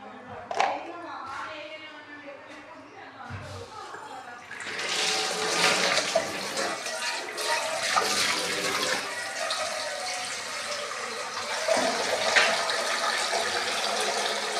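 Water pours into a cooking pot while black chickpeas and rice are being made, starting with a few knocks and clinks and then a loud sustained rushing splash that runs for about ten seconds.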